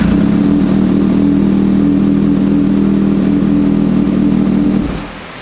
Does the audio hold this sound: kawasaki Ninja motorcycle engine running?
yes